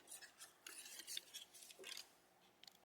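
Scissors snipping paper, cutting out a shape for a watercolour journal; soft, close, intermittent rasping snips of varying length, with no voices.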